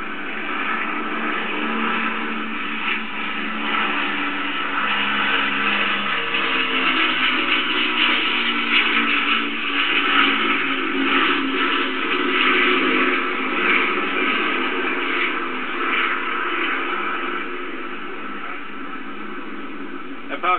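Lancaster bomber's piston engines droning steadily through a low pass over RAF Coningsby with bomb doors open, a continuous loud rumble holding for about twenty seconds before easing slightly at the end.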